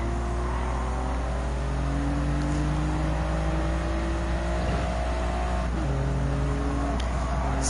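Toyota GR Yaris race cars in Gran Turismo 7 during a GT Cup race keep up a steady engine drone, their pitch climbing and dropping through gear changes as several cars run close together, with no talking.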